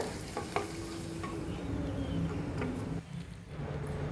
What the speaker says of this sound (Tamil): நம்ம ஒரு 25 கிராம் அளவு முந்திரி பருப்பு எடுத்து அதை பொரித்து எடுத்துக்குவோம்.